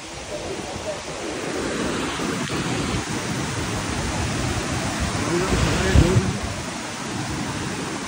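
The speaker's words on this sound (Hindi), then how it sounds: "हल्के हल्के स्प्रिंकलिंग्स आ रहे हैं" Water rushes and sprays near a hidden waterfall, a steady broadband hiss like heavy rain, with a few low thumps around the middle.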